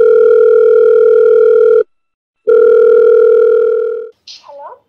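Steady telephone dial tone while placing a call, loud and close, broken by a short silence and then resuming before cutting off, followed by a brief click.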